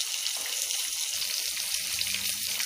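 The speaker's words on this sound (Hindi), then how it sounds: "इसी तरह से हम सारे पनीर के टुकड़ों को पलट कर सेक लेंगे।" Pieces of paneer sizzle steadily in hot oil in a pan, a continuous close crackling fry with soft bubbling underneath and no talking.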